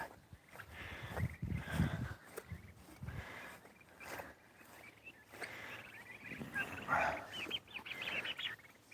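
Turkeys on a wet farm day give clucks and gobbling calls up close, mixed with shuffling and footsteps, in an irregular pattern of bursts.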